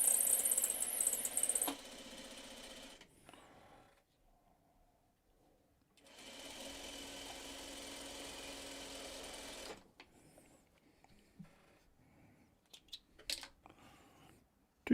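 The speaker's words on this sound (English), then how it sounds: "So let's sew these two." A sewing machine stitches two pieces of fabric together for a two-patch unit, running in a steady burst for about two seconds, then again for roughly four seconds after a pause, with quieter handling noises between runs.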